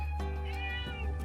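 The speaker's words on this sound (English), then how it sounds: "My cat is meowing." A house cat meows loudly and close by in one long, drawn-out call over a steady low hum, with no talking.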